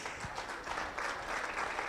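Crowd applause rises for 4-H members showing beef cattle at the Alberta Provincial Show in Stettler, a dense, fairly distant patter of many hands clapping that stays steady and faintly grows across two seconds.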